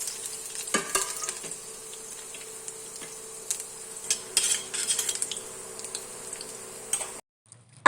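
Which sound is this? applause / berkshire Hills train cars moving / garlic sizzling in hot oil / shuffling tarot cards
garlic sizzling in hot oil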